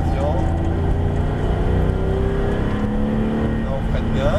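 Porsche GT3 engine held at a steady drone with harmonic whine while braking during a drift lesson on a cone course, continuous and close, with an instructor's voice talking over it.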